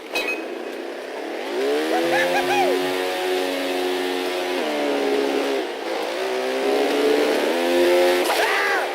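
A motorcycle engine in the PC game Trials Fusion revs loudly and continuously, pitch rising and falling as the bike accelerates and eases off, with brief dips between throttle pushes.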